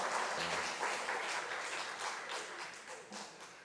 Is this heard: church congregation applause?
yes